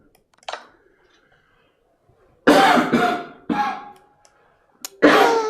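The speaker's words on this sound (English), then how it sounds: "Sorry, I have a nasty cough." Several harsh, close coughs: a small one early, then a cluster of three heavy bursts and a final cough after a short pause.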